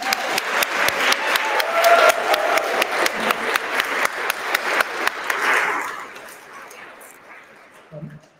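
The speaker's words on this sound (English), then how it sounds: "Let's give another round of applause." A round of applause from the audience at the EFF Awards, dense clapping with some rhythmic accents and a few dog-like yips or cheers mixed in, swelling for about five seconds and then tapering off into quieter room sound.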